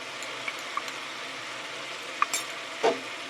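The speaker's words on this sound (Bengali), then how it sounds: "খুব ভালো করে কষিয়ে নেব মশলাটা" Ground spices, turmeric and red and Kashmiri chilli powder, fry for chicken chana masala in a steady, close hiss, with a few soft clicks and one brief scrape of a spoon near the end.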